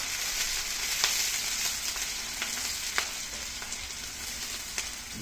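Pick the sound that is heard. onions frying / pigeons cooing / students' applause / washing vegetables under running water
onions frying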